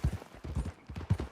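Horse hooves clopping during a ride in Red Dead Redemption 2: a rapid, rhythmic run of soft, dull thuds in repeating groups, moderately close and fairly quiet.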